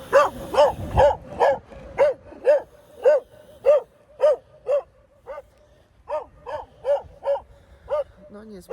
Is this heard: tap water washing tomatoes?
no